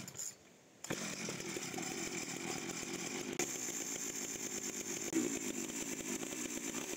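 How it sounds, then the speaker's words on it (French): A repaired chainsaw starts up and runs at a fast rough idle, loud and close with a rapid rattling pulse, preceded by a short quiet moment and with a brief dip partway through. "On a remis en route la tronçonneuse."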